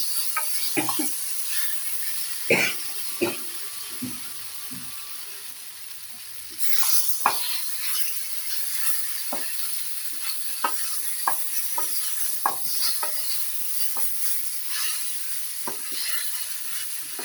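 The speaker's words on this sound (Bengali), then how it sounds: "আমার পোস্তটা দিয়ে কষানো হয়ে গেছে।" Potatoes in poppy seed paste with chili powder are stir-fried in a pan, a soft continuous sizzle broken by frequent sharp spatula scrapes and taps against the pan, close and fairly steady.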